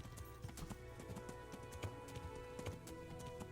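A horse gallops through the countryside in the medieval video game Kingdom Come Deliverance, its hooves clopping in a quick, rhythmic beat at a modest level with no voices.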